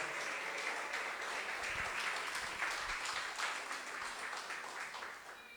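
A church congregation applauds during a worship service, a fairly quiet but steady wash of many hands clapping that fades slightly toward the end, with no voices.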